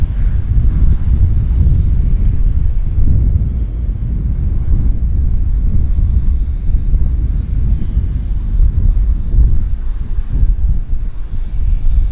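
A King Air medevac turboprop departs Vancouver Airport with a loud, sustained engine roar and rumble that holds steady throughout, buffeted by wind noise on the microphone.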